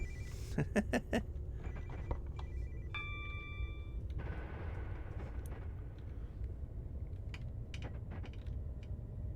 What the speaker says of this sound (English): Oh, phone ringing again.